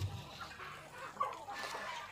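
Native village chickens on a chicken farm give soft, scattered clucks, faint and somewhat distant, over low background noise.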